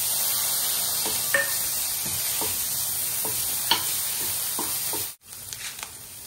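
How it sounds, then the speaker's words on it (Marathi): Tomatoes go into a hot pan of raw banana bhaji with chilli powder and are stirred through, giving a steady close sizzle with repeated spoon scrapes and a few clinks, then a brief break before the sizzle resumes. "यात आपण टोमॅटो घालूया."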